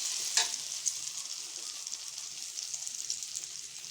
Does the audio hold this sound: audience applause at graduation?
no